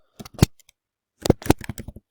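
Two quick bursts of clacking keystrokes on a computer keyboard, one brief cluster then a longer run after a short pause, close and crisp.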